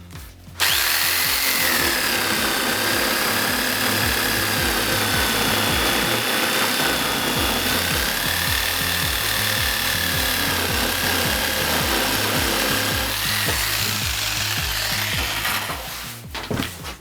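A power saw works through a 40 mm wooden board, motor buzzing continuously and loudly for about fifteen seconds with a rough, labouring grind, starting and stopping with clicks at each end.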